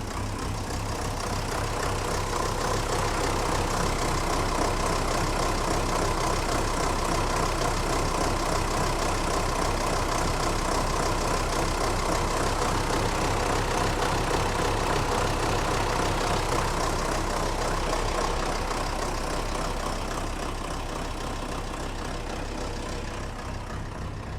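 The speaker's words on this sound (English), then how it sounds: "You can get a little idea of the engine running." An old diesel engine idles steadily, a continuous loud clattering rumble with a low throb, heard up close and unchanging for the whole stretch with no talking.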